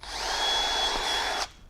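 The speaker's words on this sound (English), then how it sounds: "I'm going to drill close to the top again." A power drill pre-drills holes while a Kingfisher Bimini V3 top is being assembled, giving one steady, close whine that runs about a second and a half before cutting off.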